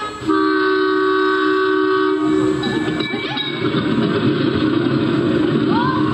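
A loud train rumbles close by, its horn blaring in long sustained tones at the start, followed by the heavy roar and clatter of passing wagons.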